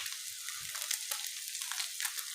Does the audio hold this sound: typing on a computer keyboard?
no